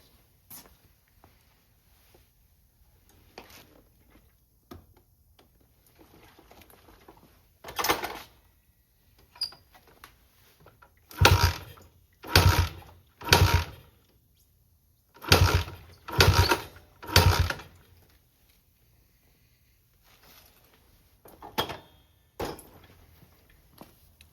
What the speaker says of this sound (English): kick this thing over and see if we can get it to start.